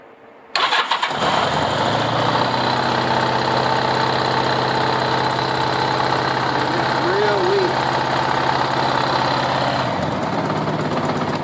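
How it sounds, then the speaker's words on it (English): A 1986 Honda Goldwing GL1200 SE-I with a failing ignition coil is running on only two of its cylinders, holding a loud, steady, rough idle after a sudden start, with a brief voice heard partway through. "It's only running on 2 cylinders."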